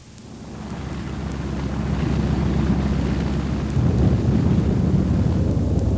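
Messerschmitt Bf 109 fighter planes of the wartime Luftwaffe taking off, a heavy, steady piston-engine roar that builds gradually and stays dense and rumbling throughout, fairly loud and without voices.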